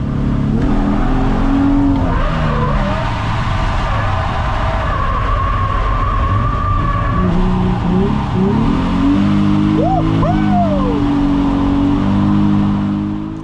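Race car lapping a track during free practice ahead of qualifying at the Viking Cup, with loud close engine revving, gear changes and rising and falling pitch as it accelerates and brakes.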